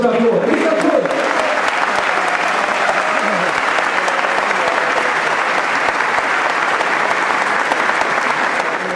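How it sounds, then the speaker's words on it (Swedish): A large football stadium crowd applauds loudly and continuously, a dense wash of clapping that holds steady throughout, with a voice speaking briefly at the start. "Årets största applåd!"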